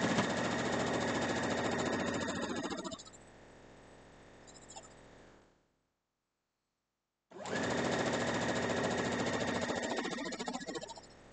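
A sewing machine stitching a quilt block runs in a loud, close, steady whirring burst for about three seconds, idles softly, falls silent, then whirs again in a second sustained run.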